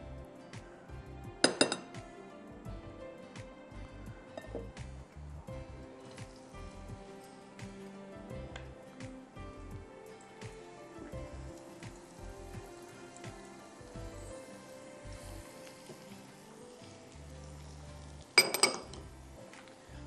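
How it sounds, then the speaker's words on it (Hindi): Roasted eggplant, its charred skin peeled off after cooking directly over the stove flame, mashed with a masher for baingan bharta: soft repeated squishing with light clinks against a bowl, and two sharper clatters, no talking. "आपने इसको इस तरह मैश कर देना है मैशर के साथ"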